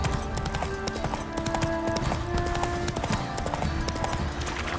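Roach, a horse in The Witcher 3, trots with steady clip-clop hoofbeats through a busy game scene, the rhythmic steps running throughout over layered background noise.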